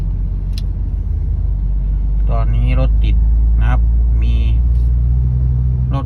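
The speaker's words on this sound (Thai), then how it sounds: "มีรถติดนะครับ เราจึงจะมาดู สาเหตุของรถติดวันนี้นะครับ" Cars and trucks crawl in a traffic jam on a three-lane road, a constant low engine rumble and drone from nearby vehicles heard under someone speaking throughout.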